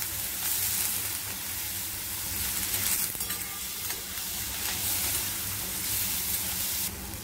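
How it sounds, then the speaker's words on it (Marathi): Soaked, sprouted and peeled val beans sauté in a hot pan, giving a loud, close, continuous sizzle with faint stirring scrapes throughout. "सोलून घेऊन ते चांगले परतून घेऊया।"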